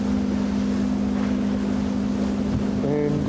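Steady roaring Antarctic wind at about minus 2 degrees buffets the microphone throughout, with a low constant hum beneath and a brief tonal whine near the end.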